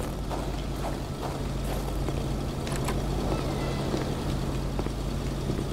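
A continuous low engine rumble drones steadily throughout, with no pauses, like a vehicle idling close by.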